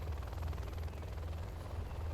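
A helicopter's rotor thumps steadily and loudly in the video game Command & Conquer: Generals, a continuous rhythmic chopping with engine whine filling the whole moment.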